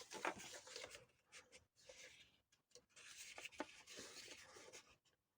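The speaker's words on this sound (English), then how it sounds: "That's a little bit too tall, so I'm going to trim some off the bottom" Paper being cut to trim the bottom edge of a page for a handmade mini scrap journal, heard as quiet, close rasping strokes in several bursts with short pauses between them.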